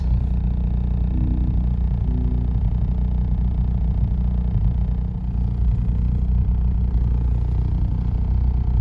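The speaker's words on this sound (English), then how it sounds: "I'll put everything back up, let it idle for a bit" A Mazdaspeed 3 engine idles after a new side motor mount install, a steady low rumble heard from inside the car, even and unbroken throughout.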